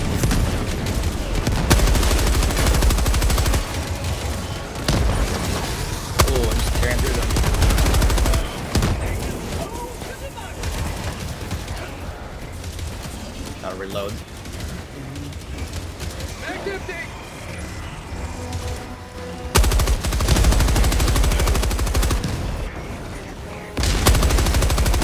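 Bursts of video-game machine-gun fire come in loud, dense stretches, easing into quieter scattered shots in the middle before heavy firing resumes, with players talking over it.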